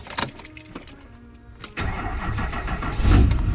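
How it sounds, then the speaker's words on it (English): An old Duramax diesel pickup truck engine cranks over with clicks and whirring, then catches and fires up into a loud, rough idle that swells louder near the end, with no talking. "Let's crank up the old Duramax real quick."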